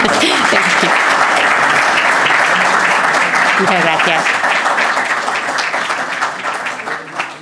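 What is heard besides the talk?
audience applause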